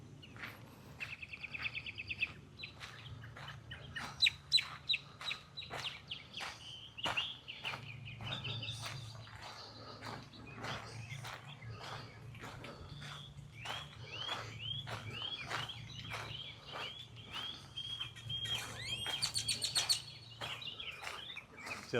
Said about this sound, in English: especially mockingbirds and other birds in the area while we're walking